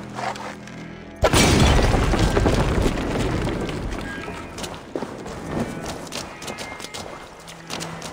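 An explosion in Assassin's Creed Valhalla erupts abruptly with a loud, broad boom, then rumbles and crackles as debris settles, fading gradually over several seconds.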